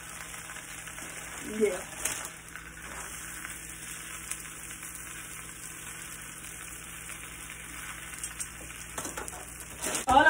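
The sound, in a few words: spinach sizzling and wilting in a pan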